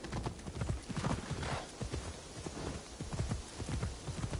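Hooves clip-clop in a quick, steady rhythm at a trot in Assassin's Creed Shadows, close and clear, with a soft rushing background.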